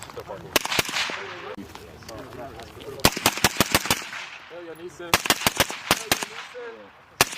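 Suppressed rifle fire at a range, the rifle shot from a bipod, comes as sharp cracks in quick bursts of several rounds each, loud and close, with people talking between the bursts.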